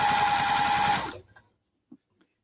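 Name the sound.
Juki sewing machine stitching a pillowcase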